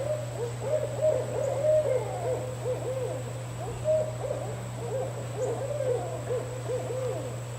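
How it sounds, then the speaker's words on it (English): Owls hooting at night outdoors, a steady run of overlapping soft calls at mid distance, with a constant low electrical hum underneath and no talking. "The owls are out."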